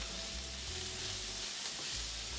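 Ingredients for a homemade lasagna sauce saute in a pan, giving a steady, soft, continuous sizzle with faint low stirring underneath and no talking.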